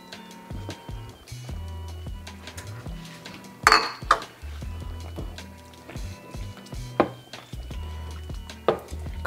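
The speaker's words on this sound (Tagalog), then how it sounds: "Tapos haluin nyo para hindi mamuo." Cornstarch slurry is stirred into a pot of sauce: a spoon knocks and scrapes against the pot in an irregular rhythm, with a few sharp clinks, close and unaccompanied by talk.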